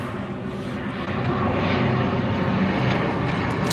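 Airplane engine droning steadily overhead as it flies near a sailing boat, a continuous close and loud rumble heard alone for the whole stretch.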